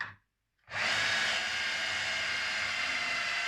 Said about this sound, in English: I'm just going to drill a quick hole there that I can use for my power cable